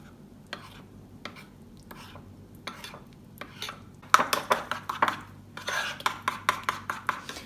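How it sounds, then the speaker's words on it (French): Cake batter for a chocolate cake is stirred in a bowl, with soft scraping at first, then a quicker run of sharp clinks of a utensil against the bowl, close and fairly quiet, with no talking. "Ensuite, on va ajouter de la farine petit à petit et on mélange bien."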